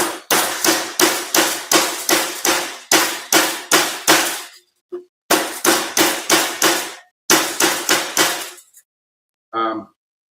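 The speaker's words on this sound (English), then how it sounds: "What I'm doing with the ball peen end is I'm hammering down this end" A ball peen hammer strikes metal in rapid, evenly paced blows, loud and close, in several bursts separated by short pauses, ending with a faint ring.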